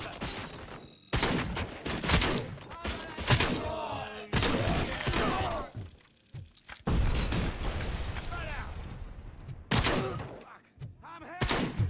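A shootout erupts in bursts of loud, close gunfire, with heavy thumps and crashes breaking in. Voices shout between the volleys.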